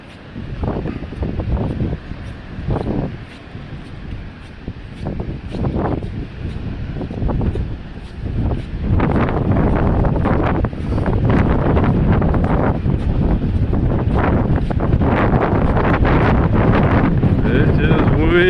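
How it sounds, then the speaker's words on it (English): Strong gusty wind buffets the microphone outdoors near sizable waves, roaring unevenly in heavy blasts that build louder and more constant in the second half. "It is windy"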